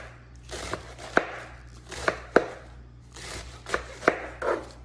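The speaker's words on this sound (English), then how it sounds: "Just do some nice little slices." A knife slices through cabbage on a cutting board in a series of crisp, close cuts at an irregular pace, about eight distinct chops with short pauses between them and a low steady hum underneath.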